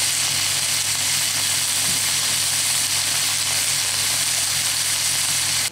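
Bacon-wrapped filet mignon sizzling in a grill pan gives a loud, steady, close frying hiss that holds unbroken throughout.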